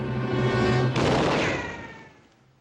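A single loud gunshot in a western drama scene, a sharp blast that rolls off into a fading echo over a low background hum.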